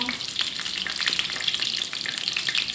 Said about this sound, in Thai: ทอดมันไปสิ